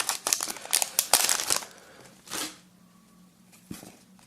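Pokémon card booster packs from a Kyogre box being opened: loud crinkling and tearing of foil wrappers in a dense burst, then a brief rustle and a faint later crinkle.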